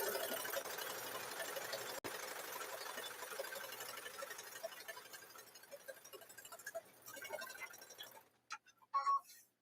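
A home sewing machine stitches fabric for a quilt block, its fast, steady mechanical whir running continuously for most of the stretch before stopping, leaving a few scattered handling noises at the end.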